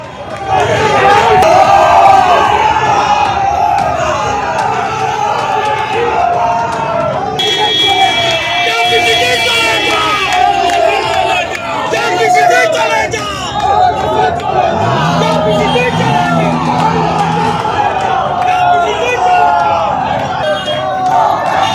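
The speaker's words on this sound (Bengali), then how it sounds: "বারাসাত কলেজের গেটের ভিতর থেকে টিএমসিপির স্লোগান আর বাইরে থেকে বিজেপির স্লোগান, অর্থাৎ স্লোগান পাল্টা স্লোগান" Political crowd chanting outside Barasat College, with Trinamool student activists shouting slogans from behind the gate and BJP supporters answering with counter-slogans at a passing convoy. Loud, continuous massed voices and babble persist throughout, with whistle-like tones cutting through midway.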